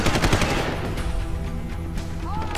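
Rapid gunfire from a firefight in the video game Deus Ex: Human Revolution, with dense, loud bursts that are heaviest at the start and then settle into steady shooting.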